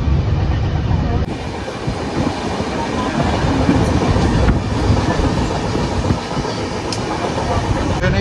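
Shantiniketan Express, an Indian express train running from Bolpur to Howrah at about 110 km/h past Bardhaman, heard from inside a 2S coach. There is a steady loud roar of wheels on rails with faint rhythmic clicks, close and continuous throughout.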